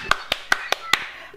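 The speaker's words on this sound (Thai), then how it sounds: "ขอเสียงปรบมือด้วยนะคะ" Five crisp hand claps in a steady, evenly spaced rhythm, close by and fairly quiet, celebrating a lucky winner announced in a gift-set prize draw.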